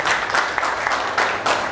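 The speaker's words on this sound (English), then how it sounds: "give yourselves a round of applause for actually turning up" A breakfast audience gathered for a mental health session applauds itself, a dense wash of many hands clapping steadily at close range with slight swells, no one speaking over it.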